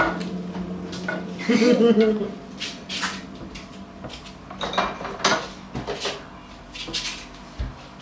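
Someone whisks a chocolate berry dessert mixture in a bowl, making scattered scraping clinks against the bowl among broken, irregular kitchen clatter. People talk over much of it.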